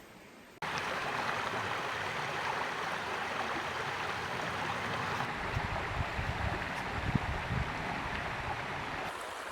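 Box Canyon Creek in Washington rushes steadily on a cool morning, a broad continuous wash of river water close by, loud and unbroken, with no voices.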